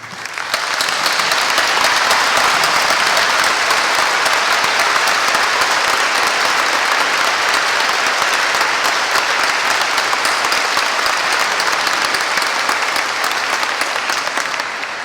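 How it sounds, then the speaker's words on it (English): A large audience at a school's 100th anniversary celebration gives long, loud, sustained applause for standing veterans, dense clapping that stays steady from start to finish. "give you the applause that you so rightfully deserve"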